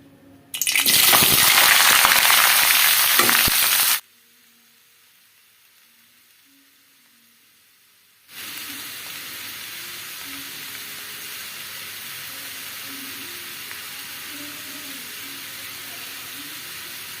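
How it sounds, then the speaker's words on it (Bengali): Sweet pumpkin frying in a pan: a loud burst of hissing sizzle as it hits the hot oil, then a quiet gap, then a steady, softer crackle that continues to the end. "সে কারণে ভাবলাম এখন মিষ্টি কুমড়া ভাজিটা করে রাখি"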